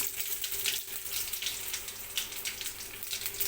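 Mustard seeds, curry leaves and garlic crackling in hot oil for a tempering, a steady close sizzle with fine spattering that fills the whole stretch without any talk.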